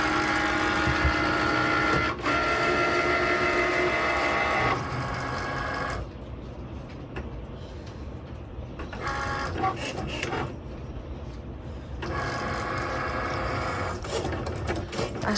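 A vinyl cutting machine slices glitter heat transfer vinyl, giving a steady mechanical whirring and rattling that shifts in intensity as the blade carriage moves, close and continuous with no talking.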